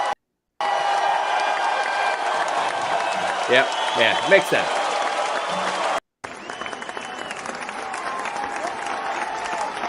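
A studio crowd applause effect plays as steady, dense clapping, broken by a short gap, while people talk briefly over it.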